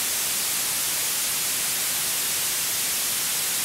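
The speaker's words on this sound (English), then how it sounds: "the second one is white noise" Steady white noise from an audio plugin, a flat, even hiss that stays constant and alone with no other sounds.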